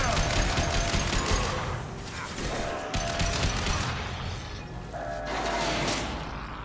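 Rapid bursts of armor-piercing gunfire in the Mass Effect 2 video game, a dense mechanical rattle of shots that comes in waves, with brief dips in between, and faint game noise underneath.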